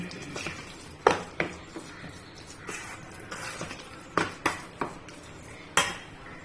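Curd rice being mixed in a bowl with a spoon, giving soft scraping and several sharp clinks of metal against the dish at irregular intervals, close and fairly quiet.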